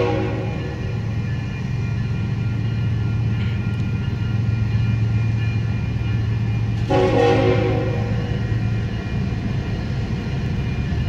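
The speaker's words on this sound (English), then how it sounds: "BNSF container train coming up." A BNSF container train rolls past with a continuous heavy rumble while its horn sounds loud and near in the middle of the pass.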